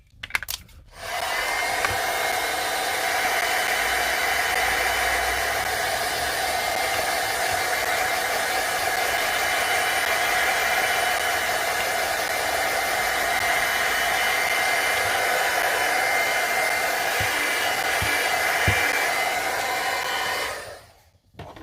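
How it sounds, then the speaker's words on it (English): A heat tool blows hot air onto a misted hand-painted card, a loud, steady whooshing hum that starts abruptly, holds unbroken for about twenty seconds and then cuts off. "We're going to mist the back of this again. Hit it with the heat tool."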